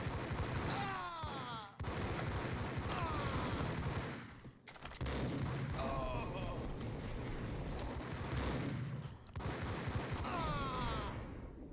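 Dense, sustained gunfire from the video game Max Payne, loud and continuous with brief drops in intensity, mixed with game sounds and voices throughout.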